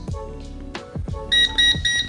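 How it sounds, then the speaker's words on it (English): A cheap Aicevoos AS-58A multimeter in high current mode sounds its overcurrent alarm near 10 amps: a loud, rapid string of even electronic beeps starting partway through, after some clunky handling knocks. "now we have a high current alarm, which is excellent"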